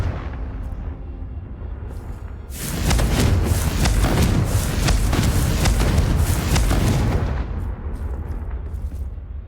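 A Confringo explosive spell from Hogwarts Legacy bursts into a loud, sustained roar of crackling blasts lasting about five seconds, rising sharply from a quiet background and then fading away.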